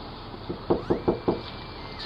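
A grown man knocks on a front door after midnight while out trick-or-treating: four firm, evenly spaced raps on wood, fairly close and loud, with faint background hum and no talking.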